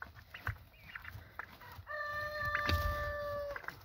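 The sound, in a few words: peacocks calling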